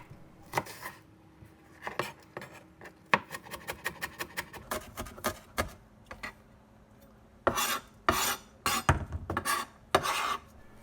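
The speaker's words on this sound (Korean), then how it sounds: "파 흰 부분 반개를 잘게 다져주세요." Green onion whites being finely minced with a knife on a cutting board, heard as bursts of quick close chopping taps with short pauses between them, at moderate loudness and with no speech.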